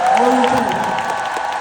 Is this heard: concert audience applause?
yes